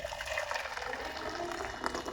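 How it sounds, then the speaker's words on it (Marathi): Hot boiled water poured into a large bowl for soaking soya chunks, a short steady splashing gurgle, close and fairly quiet. "एक मोठं बाऊल घेऊया त्या बाऊलमध्ये उकळलेलं पाणी ओतायचं"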